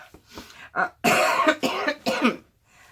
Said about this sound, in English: That's the alcohol making me cough.